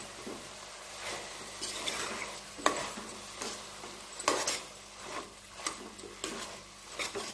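A spatula scrapes and stirs vangibath spices with coconut in a hot pan, repeated swishing strokes over a light sizzle, close and moderately loud, with occasional clinks of metal.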